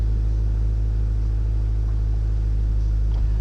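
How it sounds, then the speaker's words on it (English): Stage 2 exhaust on a 2015 Subaru WRX, a steady low droning rumble that holds constant and loud throughout, with no talking. "As far as the exhaust goes, it's not too loud."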